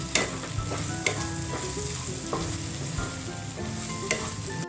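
Spices sautéing with chili powder in a hot pan for Malvani okra bhaji, a steady close sizzle with faint scraping stirs throughout.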